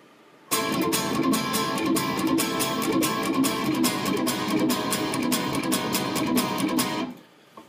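An electric guitar riff is played fast, with rapid, evenly spaced strummed chords in a driving, continuous rhythm for several seconds before stopping.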